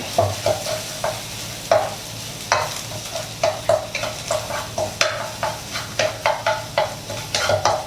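Egg frying in a pan for stir-fried instant noodles, stirred with a utensil that scrapes and taps the pan in repeated short strokes over a steady sizzle, close and fairly loud, with no voices.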